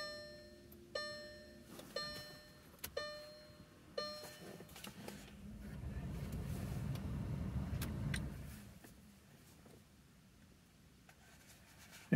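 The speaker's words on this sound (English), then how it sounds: "I'm going to turn on the ignition." Ignition switched on in a Volkswagen car: a series of chime tones rings out, followed by a low electric whir from the car's systems that swells for a few seconds and then fades to quiet.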